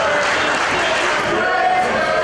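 A sold-out wrestling crowd at the 2300 Arena roars steadily during a street fight event, a dense, continuous wall of cheering with a commentator's voice running underneath.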